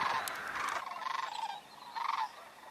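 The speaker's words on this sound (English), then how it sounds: "you can hear their sound as they fly away" Sandhill cranes calling as they fly away over a river preserve, a few faint rolling, trumpeting bursts in short rhythmic pulses, heard from a distance.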